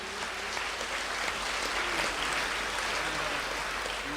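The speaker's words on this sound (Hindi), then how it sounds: "प्रभु के लिए हम ताली बजाएंगे" A congregation clapping during a worship service, a steady crowd of hands applauding together at moderate loudness with a low hum beneath, continuing without pause.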